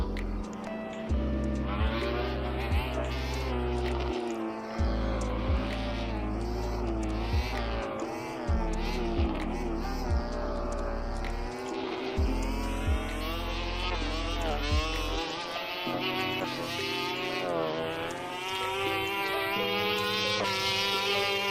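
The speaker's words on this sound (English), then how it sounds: "At high RPM, it's not the most audio pleasing bike. It sounds very robotic." A motorcycle engine in a racing video game, revving at high RPM with a robotic, buzzy tone whose pitch keeps sliding up and down, running continuously for the whole stretch.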